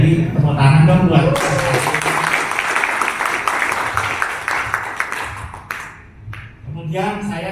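Audience applause at a real estate company's business plan event, a broad wash of clapping from a large hall rising after speech through a microphone, with the speaker's amplified voice returning near the end.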